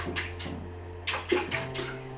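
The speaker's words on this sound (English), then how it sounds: "You're going to turn around and show us splashes." A baby splashing bathwater in a tub at bathtime, a few soft close splashes in quick bursts over a low steady hum.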